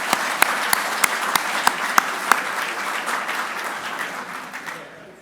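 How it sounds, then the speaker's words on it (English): An audience gives a round of applause at a political event on US-India relations. It opens with several sharp, evenly spaced claps over a broad crowd wash, then fades gradually toward the end. "a round of applause for the people of India itself"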